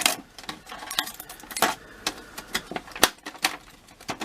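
Sharp clicks, snips and crinkles of plastic packaging being cut open on a NECA Friday the 13th Part VII ultimate Jason Voorhees action figure, irregular and close, with no talking.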